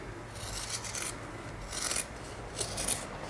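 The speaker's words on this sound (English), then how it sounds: "So I can cut at least an inch off each of these." Paper pages for a junk journal being trimmed by about an inch, giving three short rasping cutting strokes spaced about a second apart, close and clear with no voices.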